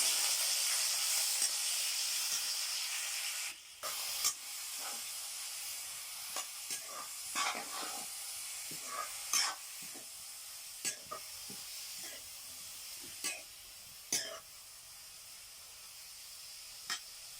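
Ginger, garlic and green chilies frying in a pan, a soft steady sizzle and hiss with repeated light scrapes and clinks of stirring at irregular intervals.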